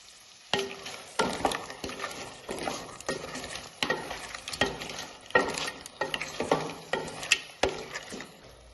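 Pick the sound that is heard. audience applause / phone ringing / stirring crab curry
stirring crab curry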